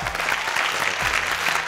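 Theatre audience applauding a state youth theatre company, a steady, dense burst of clapping filling the room without speech.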